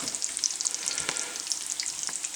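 Food, likely bacon, sizzles steadily in a hot pan on a stovetop, a dense crackling hiss with scattered pops running throughout, close and fairly loud with no voices.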